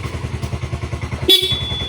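A Yamaha Mio i 125 scooter idles with a steady rhythmic thump, then a short, bright horn beep sounds near the end, close and loud.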